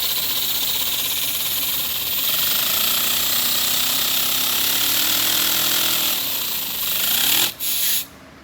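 A small mini V4 model engine runs hard with a loose flywheel, giving a loud, steady high-pitched buzzing rattle. The pitch climbs near the end before the engine cuts out abruptly, then there is a short final burst.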